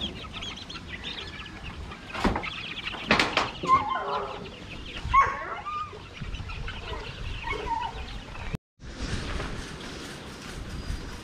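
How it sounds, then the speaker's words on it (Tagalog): Rhode Island chicks on a farm, giving scattered soft clucks and cheeps under a steady outdoor hum, fairly close, with a brief dropout near the end. "ito na po yung Rhode Island natin na sisiw"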